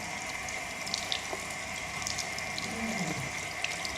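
A public toilet sink tap runs slowly with warm water, giving a steady, close, low-level trickle and hiss throughout with no voices.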